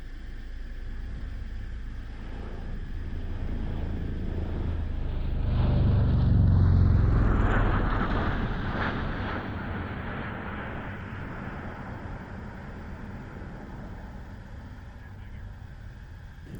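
Heavy roar of a CV-22B Osprey tiltrotor's engines and rotors swells as it passes nearby at an airshow, peaking loudly then fading, with a sweeping whine and wind buffeting.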